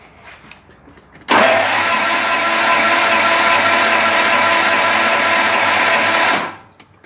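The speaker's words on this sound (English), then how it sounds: "So now the engine will crank, but it's not going to start." A starter motor cranks the V12 engine of a Jaguar E-type steadily for about five seconds, a loud, even whirring that never catches, then cuts off into quiet.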